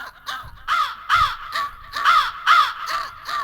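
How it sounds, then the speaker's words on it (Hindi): A crow caws repeatedly from a tree branch, harsh calls in an irregular series of about eight, near and loud with no talk. "देखो डाल पे कौवा बोल रहा है"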